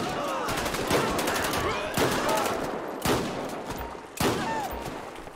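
Gunfire in a GTA 5 zombie apocalypse mod: several loud bursts of shots crack out about once a second over a steady bed of game noise, without talk.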